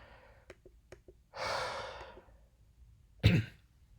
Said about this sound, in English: I need to take a breath.